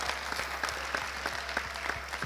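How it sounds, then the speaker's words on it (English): An audience at a panel gathering applauds in a short, even burst of many hands, with a few sharper individual claps standing out over a low steady hum. "Can we get a round of applause?"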